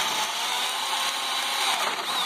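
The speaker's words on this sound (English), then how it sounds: "I'm going to drill holes about a 45-degree angle till I hit that open hole" A power drill fitted with a 1/2-inch bit bores at an angle into scrap wood, giving a steady, loud whine that holds constant throughout with a slight pitch dip near the end.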